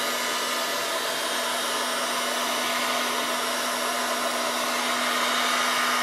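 A heat gun warms a stuck bearing ring on a 2001 Ford Puma 1.7, giving a steady, loud blowing hiss with a constant motor hum that holds unchanged for several seconds, with no voices.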